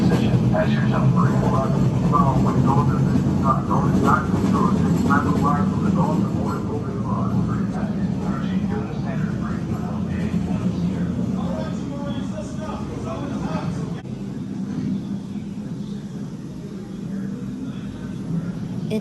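Loud, steady roar of fighter plane engines droning overhead throughout, with a slight fade toward the end.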